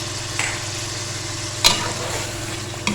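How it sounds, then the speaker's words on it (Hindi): Biryani masala and green chillies get stirred in a hot pan of chicken biryani, giving a steady sizzle with a few sharp spoon scrapes and knocks against the pan. "इसको अच्छी तरह मिक्स करेंगे।"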